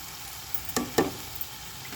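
Ivy gourd fries in a pan, a quiet steady sizzle broken by two short sharp scrapes of a spoon stirring the vegetables, close and alone without talk.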